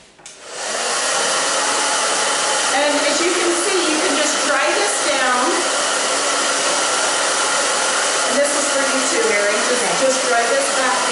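A hair dryer blows steadily and loudly on short bob-length hair styled with mousse, a constant whooshing roar that starts within the first second and holds for the rest of the clip.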